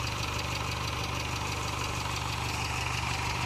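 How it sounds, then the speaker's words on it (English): A 1988 Ford Festiva engine idles steadily with a low, even rumble and a faint rhythmic knock, close and unbroken with no voices. "And then a sound of the engine."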